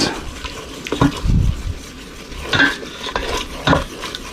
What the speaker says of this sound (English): And just stir that in until that tomato paste is well incorporated.